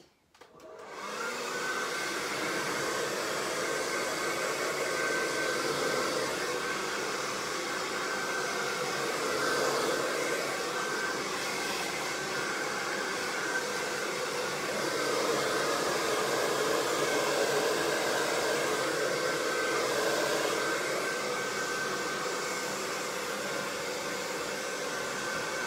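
A hair dryer blows steadily and loudly while drying hair freshly treated with a Brazilian straightening, its whooshing roar continuous and close for the whole stretch with no talk.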